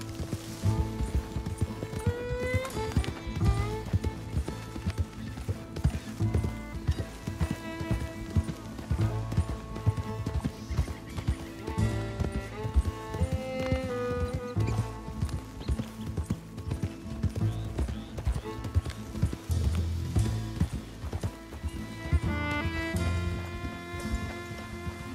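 Horse hooves galloping in Red Dead Redemption 2, a steady rapid clip-clop running throughout under a continuous music score.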